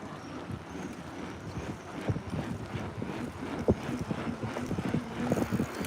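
Hooves clip-clop in an uneven rhythm on a hard surface, fairly close, with light wind noise in the background.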